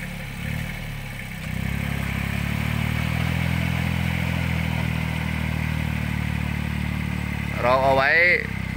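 20 hp farm tractor fitted with a 1.4 m rotary tiller churning a muddy rice paddy, its engine a steady, close, rumbling drone throughout, with a brief voice near the end.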